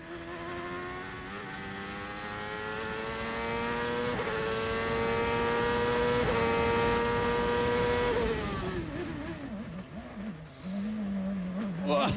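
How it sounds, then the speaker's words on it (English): A CART race car's engine, heard onboard, whines high and loud, revving up in steps as it shifts, then drops sharply under hard braking with the rear wheels locked, ending in rough, wavering revs. "When you hear the engine revs drop that much, that means he's locked up the rear wheels"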